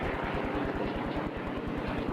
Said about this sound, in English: Re-entry parties are leaving the Rendova now by helicopter.